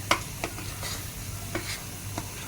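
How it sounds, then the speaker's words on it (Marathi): Masala paste frying in oil for a mutton curry, a soft steady sizzle with a few distinct spoon scrapes at regular intervals as it is stirred. "आता हे वाटण आपल्याला तेल सुटेपर्यंत परतवायचं आहे."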